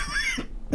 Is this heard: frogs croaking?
no